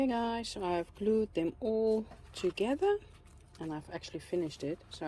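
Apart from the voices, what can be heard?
No everyday noise stands out behind the speech.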